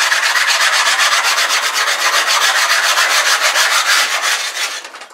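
An aerated concrete block is rubbed smooth with another piece of aerated concrete, giving loud, close, rapid rhythmic rasping strokes that fade out at the end.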